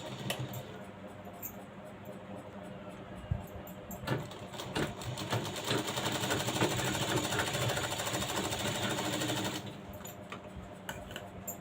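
A sewing machine stitches a blouse hook strip in a rapid, close mechanical rattle that starts and stops, with a longer continuous run in the middle.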